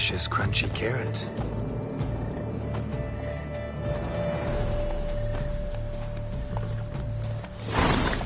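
A horse in The Witcher 3 video game clip-clops steadily on its hooves throughout and gives a whinny. The hoofbeats are close and continuous, with a voice talking over them.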